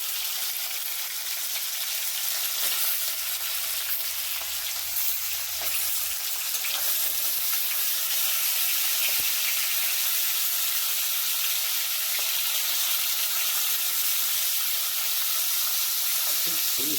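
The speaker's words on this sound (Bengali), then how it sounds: "এই পটলটা ছাড়ছি তেলে" Pointed gourd (potol) frying in mustard oil for an egg curry gives a continuous bright sizzle, loud and close, with faint stirring clinks and brief soft knocks in the pan.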